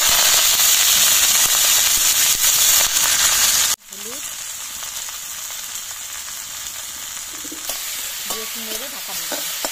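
Kharkul leaves dropped into a hot frying pan in a village kitchen give a loud, steady sizzle that cuts off abruptly, then resumes as a quieter crackling fry with a few faint stirring scrapes.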